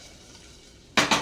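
A spice tempering for an ivy gourd and potato curry sizzles in a pan: a quiet, low hiss, then two sudden loud bursts of sizzling close by at the end.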